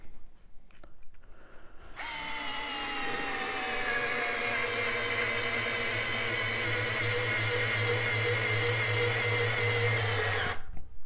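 A cordless drill whirs up after a short pause and runs steadily for about eight seconds as it drives a screw, then stops abruptly.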